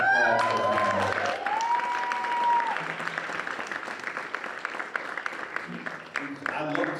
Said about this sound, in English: just a special applause for Hannah